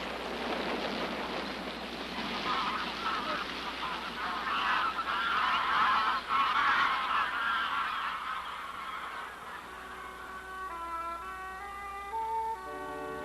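A flock of geese honks and calls noisily, with many overlapping cries, settling into fewer, clearer calls toward the end.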